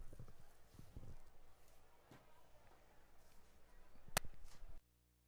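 Hooves of a harness racing horse clip-clop along the track at Kawartha Downs, a rhythmic patter of hoofbeats at moderate distance over background noise, with a sharp knock near the end before it cuts out.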